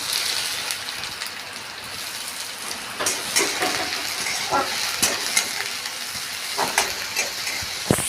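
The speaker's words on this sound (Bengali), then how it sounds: "কড়াতে তেলের মধ্যে একটু পেঁয়াজ কুচি দিয়ে দিচ্ছি" Chopped onion dropped into a little white oil in a wok, frying with a steady crackling sizzle and a few sharper pops and stirring scrapes, close and alone.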